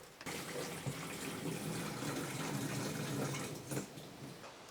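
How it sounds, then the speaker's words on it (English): Water runs steadily into a tank being filled inside a camper van, a continuous close rushing splash with no talk. "First water will be filled in."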